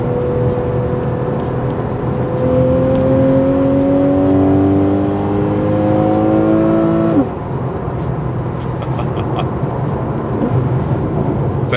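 A Porsche 911 (991) Carrera 4S engine revs hard while driving, its pitch climbing steadily through the gears for several seconds before dropping off abruptly, then settling into a lower steady drone with road noise.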